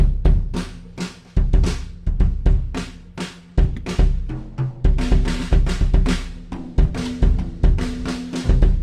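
A fast drum pattern slapped out with bare hands, dull thumps and pats in quick, steady rhythm, close and fairly loud.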